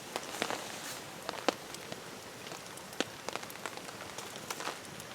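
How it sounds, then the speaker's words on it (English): Light rain falls on a camp tarp at twilight, soft scattered drops tapping irregularly on the surface, quiet and close, with no talking. "So, a little bit of rain."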